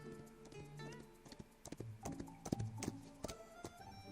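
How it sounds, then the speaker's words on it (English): Horse hooves clip-clopping at a gallop in the Love and Deepspace video game, with a whinny, some thuddy impacts and a musical score underneath, fairly faint overall. "I hear the distant sound of galloping hooves."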